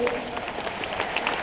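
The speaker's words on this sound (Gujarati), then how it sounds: "તાળીઓના ગણગણાટથી આપણે વધારી લઈએ." Audience applause at a community youth Olympiad festival event of the Kutch Kadva Patel Samaj, a steady wash of clapping filling the whole moment with crowd murmur mixed in.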